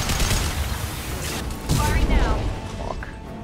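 Dense gunfire and mechanical weapon noise from a Mass Effect Legendary Edition battle on Horizon, loud and continuous with a heavier surge midway, and a voice talking over the shooting.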